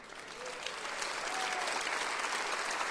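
Congregation clapping steadily at a church worship service, broad dense applause building slightly and holding loud across the whole stretch, with faint voices mixed in.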